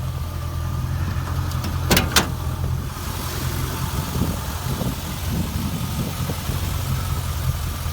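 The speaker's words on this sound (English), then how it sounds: "Here's an LS1 engine." A 2004 Corvette LS1 V8 idles under the hood of a 1969 Camaro pro touring car, a steady low rumble throughout with a couple of brief sharp clicks near the start.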